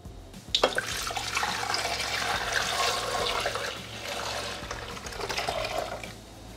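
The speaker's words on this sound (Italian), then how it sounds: "Aggiungere il latte" Milk poured into a Thermomix bowl for pistachio béchamel, a close, steady splashing and gurgling stream of liquid that starts abruptly and runs continuously, with no talking.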